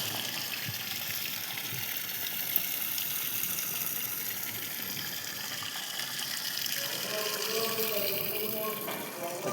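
Backwash water from a water filter being serviced gushes and splashes out steadily nearby, a continuous loud flow with a voice faintly underneath.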